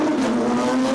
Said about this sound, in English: Just have a listen to how high-pitched and crazy these cars are